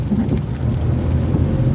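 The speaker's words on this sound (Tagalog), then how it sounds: "lumalakas na naman ulit yung ulan" Heavy rain during Typhoon Enteng in the Philippines, a continuous wash of downpour with a low rumble beneath it, steady and fairly loud with no talk.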